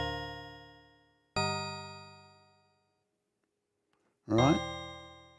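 Tinkling bell notes from an iOS MIDI keyboard app ring out as separate struck tones, each sounding bright and then slowly decaying to silence, with a brief voice near the end.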